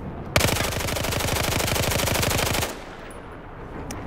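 Automatic weapon in Battlefield 4 with heavy recoil, firing one loud sustained burst of rapid shots that stops abruptly, followed by quiet ambience.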